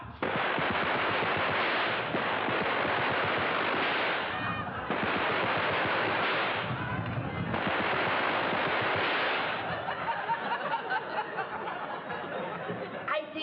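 Gunfire erupts in a 1969 black-and-white wartime TV comedy, loud bursts of rapid machine-gun-like fire in long volleys separated by short pauses, with a few voices and honking geese mixed in.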